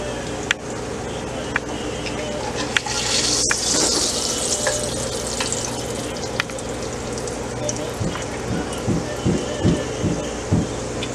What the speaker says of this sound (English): We don't want to over fry them, we just want to keep them nice and tender still so we can roll them up with the beef.